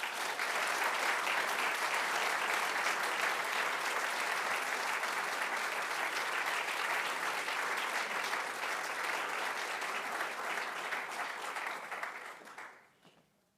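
Sustained audience applause welcoming lecturer David Wengrow at a Tanner Lecture on Human Values, a full hall clapping steadily and loudly for about twelve seconds before fading quickly to quiet.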